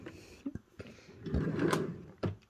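A drawer of blush, bronzer and highlight makeup is slid open, making a few soft knocks and a short scraping rumble, close and fairly quiet, with no talking.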